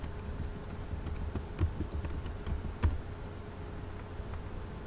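Clicks of Linux terminal commands being typed on a computer keyboard, a soft irregular patter of keystrokes with a couple of sharper taps, close and steady over a low background hum.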